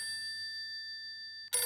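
A phone ringing indoors in a household sitcom scene, a steady electronic ring held for over a second before breaking into a louder burst at the end.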